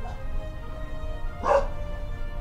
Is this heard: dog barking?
yes